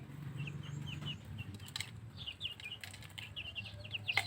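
Backyard chickens in a rural province yard flap their wings in short bursts while clucking and chirping close by, a few sharp calls rising near the end over a low steady hum.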